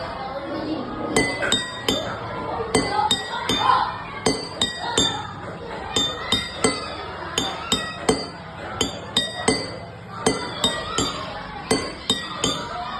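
Drinking glasses holding different amounts of water are struck in a quick, rhythmic series of bright clinks at varying pitches, with people chattering in the background.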